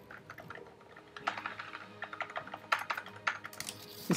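Keys tapped on a computer keyboard attached to a Mac, a run of quick irregular clicks that grows busier and louder, close and alone without talk.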